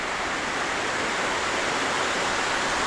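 Banagara Kusuma waterfall roaring in a steady, dense wash of falling water, loud and close, unbroken throughout with no voices.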